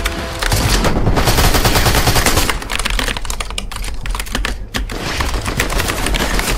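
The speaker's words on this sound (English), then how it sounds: "Why are you shooting at me and not the other guy in the cone?" Rapid automatic gunfire from a video game battle royale cash cup match, dense crackling bursts that fill the whole stretch with a brief dip near the end, loud and continuous with no talking.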